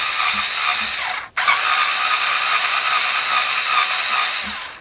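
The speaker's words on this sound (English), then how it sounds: "So the first thing we gotta do is remove these two screws." A tool turns out screws on the back of an Xbox Series S monitor, giving a steady ratcheting, gear-like mechanical whir. The whir is close, runs almost without a break and stops briefly once partway through.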